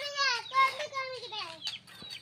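Free-range country chickens, four active birds, cluck and call in a quick run of harmonic, rising and falling notes, close by, with faint noise underneath.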